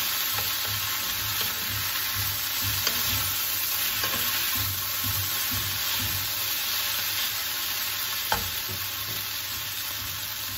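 Hokkien noodles are stirred in a hot pan for guisado, with a steady loud sizzle and repeated scraping and tossing sounds close by and no speech.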